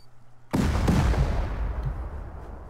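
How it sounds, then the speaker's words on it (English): A turret fires in the survival video game Rust: a sudden loud burst of gunfire breaks in after a quiet start, followed by a dense, rumbling wash of shots and echo that slowly tails off. "I heard more gunshots. It was the turret."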